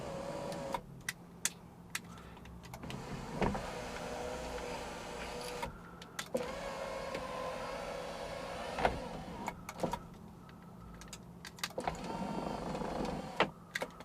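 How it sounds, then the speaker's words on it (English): Sunroof motor from a Volkswagen Corrado with a Mark III motor, running in repeated bursts: a steady electric whir broken by short pauses and small mechanical clicks, fairly close and with no voices. "I found that my Mark III sunroof motor works just great"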